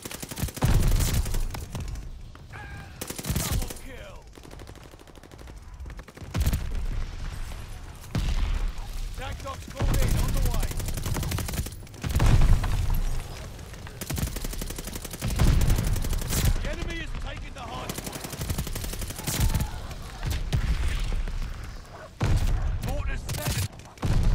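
Incoming allied fire in a video game: rapid bursts of gunfire and heavy booming explosions, loud and close, with repeated volleys over about twenty seconds.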